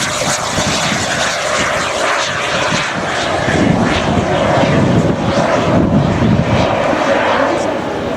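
A Russian aircraft flies over an English air show, its engine roar loud and continuous as it passes, with a broad rushing drone that swells slightly midway while a voice talks beneath it.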